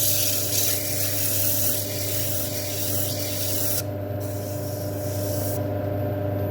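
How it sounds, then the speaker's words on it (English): A power sander whirs steadily against a turned Camphor Laurel wooden bowl, a continuous abrasive hum with shifting pitch as pressure changes, close and fairly loud. "a little bit of power sanding there just to take that out"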